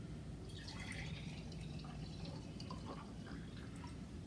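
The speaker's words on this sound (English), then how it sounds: "So we're going to pour the water in." Water poured into a container for a mixtures and solutions classroom activity, a steady trickling and splashing with faint drips, fairly quiet and continuous throughout.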